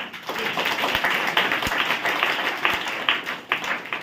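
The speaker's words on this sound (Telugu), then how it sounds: "ఈ చప్పట్లు పట్టు." A congregation at a church youth revival meeting claps steadily in sustained, dense applause that stays fairly even throughout.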